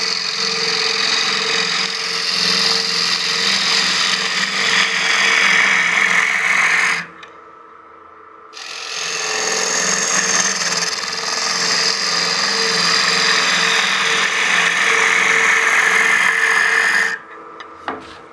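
Wood lathe push cut with a 40-40 grind bowl gouge: a steady, loud motor whine with cutting hiss, stopping briefly mid-way before resuming, then cutting off near the end.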